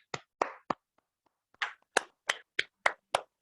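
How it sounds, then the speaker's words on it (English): About a dozen sharp, separate hand claps from a small online Toastmasters meeting, with a short quiet gap before steadier, evenly spaced claps resume, close and fairly loud. "Can we have a huge round of applause for Ankur,"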